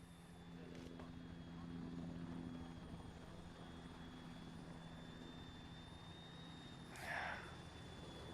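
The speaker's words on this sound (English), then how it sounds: "Let this helo get a bit closer and then mount up." Helicopter in the Arma 3 military game drawing closer, a steady low rotor and engine drone that builds gradually under faint background noise, with no talk.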